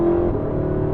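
A Porsche 918 Spyder's engine pulls hard under acceleration, a steady, loud, droning mechanical tone that holds throughout the brief moment.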